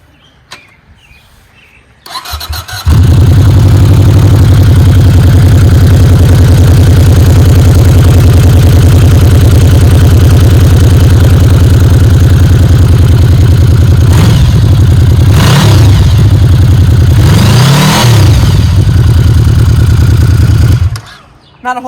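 A stock-exhaust Yamaha VMAX 1700 motorcycle fires up after a brief quiet moment and settles into a loud, steady, deep idle with a couple of short throttle blips before cutting off near the end.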